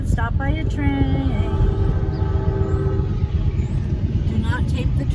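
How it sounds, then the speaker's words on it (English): A train rumbles past at a road crossing, with a horn blast sounding early on over a steady low roar while people talk in a car. "we're gonna get stopped by a train."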